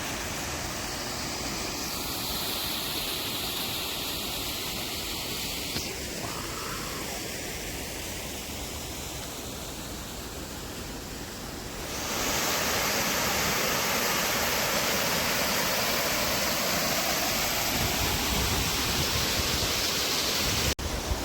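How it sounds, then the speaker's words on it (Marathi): A steady, loud rush of falling water from a monsoon waterfall at the Belpada quarry fills the scene continuously, growing fuller and closer partway through, with no other sounds standing out. "माझ्या पाठीमागे धबधबा आहे"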